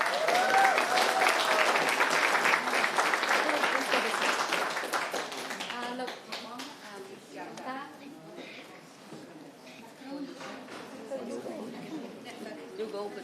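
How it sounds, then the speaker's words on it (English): Warm applause fills a city council chamber for a proclamation, loud and sustained at first, then thinning into scattered claps beneath murmured chatter and talking. "Let's give one more round of applause for our friends."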